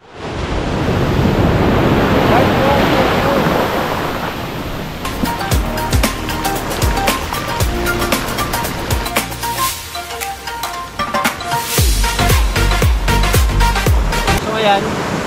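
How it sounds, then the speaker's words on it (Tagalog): Waves crash onto a beach shore at Dipaculao in Aurora, a loud, close surging wash at first that then falls back beneath other sharper sounds and some activity. "Ayan, sabayan pa ng hampas ng alon."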